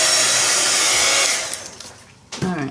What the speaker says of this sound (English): just trying to dry this up a little bit so I don't smudge too much of that glue and gesso anymore